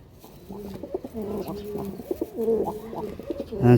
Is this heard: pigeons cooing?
yes